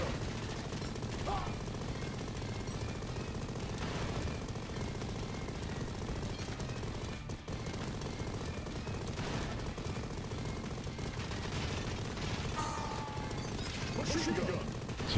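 Dense, continuous machine-gun fire in the Mighty Goose game, a steady rapid rattle of shots with explosions and crashes mixed in across a busy, loud battle.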